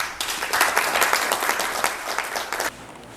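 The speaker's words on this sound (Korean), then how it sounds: "여러분 힘찬 박수 부탁드립니다" Audience at a Korean-American business friendship forum applauds the chairman before his opening address, a burst of steady, dense clapping that starts abruptly, holds for over two seconds, then cuts off sharply.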